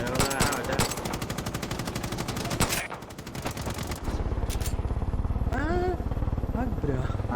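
Rapid automatic gunfire in the Far Cry 5 video game, dense bursts of rattling shots that break off midway, then a sustained engine-like drone with a vehicle rumble and a voice talking over it.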